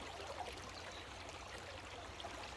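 A small creek runs high over gravel and rock near a gold-prospecting spot, giving a steady, even broadband rush of flowing water that holds constant throughout without voices.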